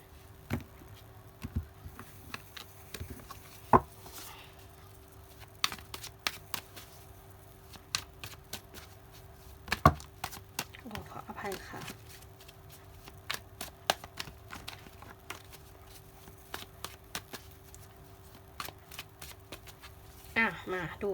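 Tarot cards are cut and stacked into several piles on a table: light, sharp card taps and snaps come at irregular intervals, with a soft voice talking between them.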